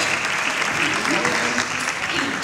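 Audience at a magic show applauds a volunteer called up on stage, a steady dense wash of clapping at moderate level throughout, with faint voices mixed in.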